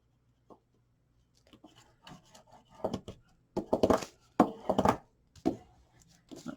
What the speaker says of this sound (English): So what I'm going to do is I'm going to burnish that real well, try and get it smoothed out.